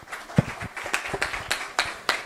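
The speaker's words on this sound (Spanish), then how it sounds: "pido un aplauso para el primer panelista" Sparse, light applause from a forum audience welcoming the first panelist, with scattered individual claps fairly far off rather than a full ovation.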